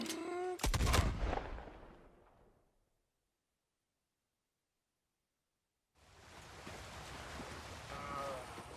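A burst of sharp, close gunfire in Red Dead Redemption 2 rings out and decays into silence, followed later by a steady wash of outdoor ambience.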